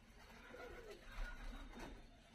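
Fighting pigeons cooing in a loft in Tbilisi, Georgia, soft repeated coos over a steady low background hum, fairly close and moderately quiet.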